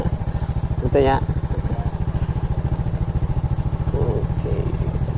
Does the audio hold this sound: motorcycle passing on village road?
yes